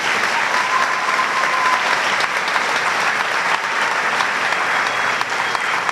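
An audience applauds award-winning students at a school awards program, steady dense clapping filling the hall from start to finish at full strength.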